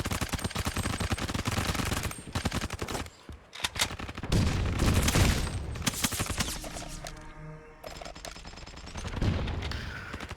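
Gunfire in an online multiplayer shooter match: dense, continuous bursts of rapid automatic fire and scattered single shots, loud and close, with brief gaps and quieter stretches where the firing thins out.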